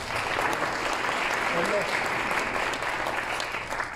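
Audience applause at an award ceremony, a dense steady wash of clapping from a large crowd that holds for the whole stretch and eases slightly near the end.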